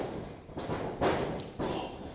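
A wrestler slams an opponent onto the ring mat during a tag-team match, giving dull thuds and impacts that rise over a steady arena crowd roar, with several heavy hits across the short span.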